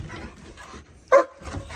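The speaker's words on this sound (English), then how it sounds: "This is two dogs playing. They're German Shepherds." German Shepherd dogs playing and wrestling, with one sharp close bark standing out above faint scuffling and low background sounds.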